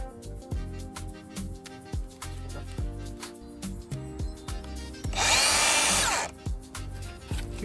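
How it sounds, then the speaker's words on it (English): A power drill with a diamond tile cutting bit is used on a porcelain tile wall. Repeated knocking thuds come first, then a loud, harsh grinding burst of about a second rises sharply before cutting off. "Because we're cutting through a porcelain tile wall, we're using this diamond tile cutting bit."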